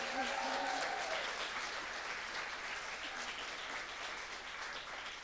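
A crowd at a mock trial championship round gives steady, dense applause that holds at a fairly even level throughout, sounding somewhat distant and soft.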